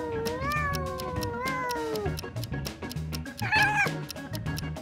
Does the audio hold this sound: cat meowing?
yes